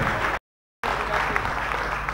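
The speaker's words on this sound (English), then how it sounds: "Give applause to Dr. Sehat Sutardja and Professor Chan Bas" Dense applause from a public lecture audience fills the clip, steady and broadband, broken by a brief moment of total silence before resuming at the same level.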